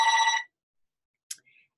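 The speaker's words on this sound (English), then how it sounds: "excuse the phone, I can't turn it off." A telephone rings in one short electronic burst and then falls silent, followed by a faint click and a soft, brief tone; close and clear, with no talking.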